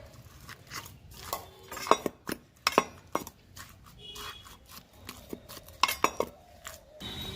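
Wood apple pulp being mashed in a bowl with mustard oil: close, irregular clinks and squelchy scrapes of a utensil against the dish, sharp taps scattered among softer mixing sounds, with no voices.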